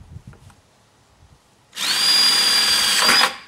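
A power drill bores a hole through a plastic bucket, starting after a quiet moment with a sustained loud, close whine for about a second and a half before stopping abruptly.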